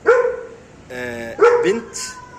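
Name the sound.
dog barking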